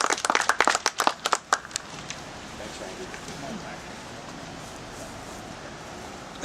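Audience applause at an outdoor historic marker dedication ceremony for the Masonic Theatre in Clifton Forge, Virginia: a burst of scattered hand claps for about two seconds that quickly fades into quiet crowd ambience.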